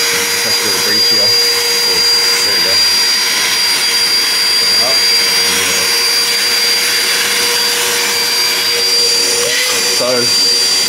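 An Ozito Power X Change 18V cordless wet and dry vacuum runs steadily at close range, a loud, constant whining airflow roar with a thin high tone, while a person speaks faintly over it.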